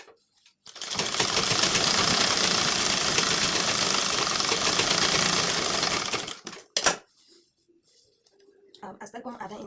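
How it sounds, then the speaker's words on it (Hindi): Sewing machine stitching the lining of a blouse, a loud steady whirring run of rapid stitches lasting several seconds, then a brief clunk and quieter handling afterward. "अब इसे पलटकर हम ऐसे अस्तर तरफ सिलाई करेंगे।"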